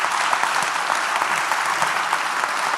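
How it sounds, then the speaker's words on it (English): Dense, continuous applause from a conference audience fills the room, a steady, full wash of many hands clapping at once, loud and even with no voices on top. "Good luck, Ongoli, and round of applause."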